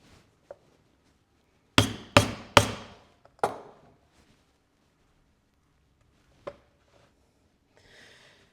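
A hammer drives stitching chisels into snakeskin leather: a quick burst of three loud, sharp strikes, a fourth slightly softer one, then a lone tap a few seconds later, with quiet pauses between.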